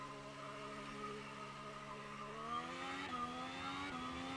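A hybrid Ferrari engine in the Assetto Corsa racing game revs steadily, its harmonic whine climbing in pitch with brief shifts around the third second, loud and continuous with no talk.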